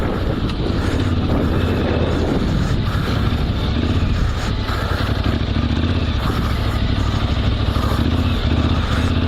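Yamaha Tenere 700 adventure motorcycle ridden in second gear on a dirt test ride, its engine droning steadily and loudly under heavy wind buffeting on the microphone, with no talking.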